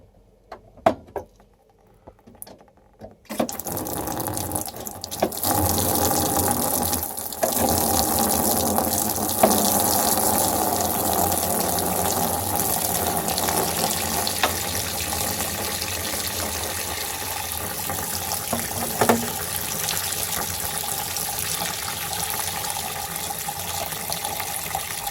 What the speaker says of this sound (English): So the next step is to drain down the boiler.